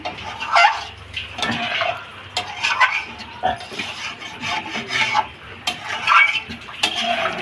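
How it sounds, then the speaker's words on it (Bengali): Ghee being stirred in a cooking pot for a Bengali charkahan dish of mushroom, papaya, potato and soybean, with a utensil repeatedly scraping and clinking against the metal in a steady, close rhythm and no talk. "ঘিটা একটু"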